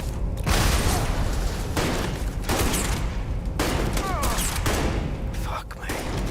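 Gunfire in the video game Starfield, with bursts of shots and heavy booms near pipes, loud and dense throughout, with a few sweeping ricochet-like whines. A voice talks over part of it.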